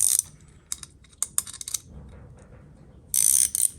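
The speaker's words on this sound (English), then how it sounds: "hopefully I can get this other nut off easy enough if I put the ratchet spanner on properly" A ratchet spanner working on an exhaust nut under a car, giving loud, close clicking bursts of ratcheting with pauses, ending in a sustained rapid run of clicks.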